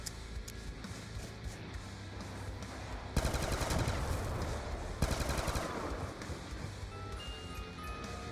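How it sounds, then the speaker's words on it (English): 1911 pistol fire in the TranZit zombies mode of a video game: a dense, rapid cluster of sharp shots near the middle, with scattered game sounds before and after. "So we gotta get a kill with the 1911."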